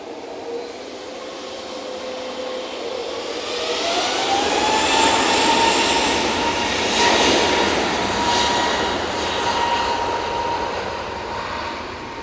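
An Emirates airliner arriving from Dubai taxis toward its stand at Manchester Airport, its steady engine roar swelling midway and holding loud and close with a rising whine before easing slightly.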